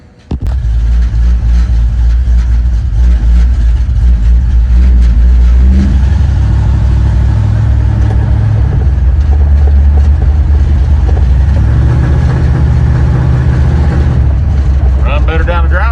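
Ford F100 truck engine running steadily at close range, with deeper rises in revs as it is taken through the gears, a continuous loud low rumble throughout.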